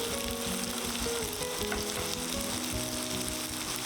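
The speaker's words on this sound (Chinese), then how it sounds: "翻面继续煎" A flipped chicken cutlet fries in hot oil in a pan for teriyaki chicken, with a loud, steady crackling sizzle up close and no talking.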